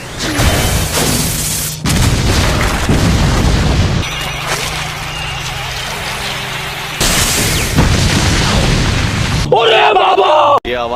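Booming blasts and explosive bursts from an anime fight between Gojo and Jogo, loud and repeated in heavy surges, with shouted voices and dialogue running over them.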